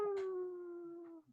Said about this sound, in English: This is Paul, my dog, that bids you all welcome in his own language.